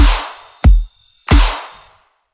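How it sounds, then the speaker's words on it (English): Snare hits in a bass music loop: a bright noisy snare crack, followed by punchy low-heavy pre-snare and reverse snare hits with swelling noisy tails, three accents over about two seconds, loud and dry. "to give more emphasis on the snare is a pre-snare and a reverse snare."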